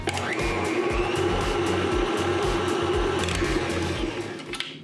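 An electric mixer beats butter for orange shortbread dough with a steady, loud, continuous motor whir. The sound stays constant for several seconds and cuts off just before the end. No one speaks.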